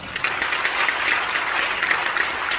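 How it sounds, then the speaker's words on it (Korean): A church congregation claps steadily, a dense wash of hand claps continuing without a break and without voices over it. "우리 모두 감사의 박수를 드리겠습니다"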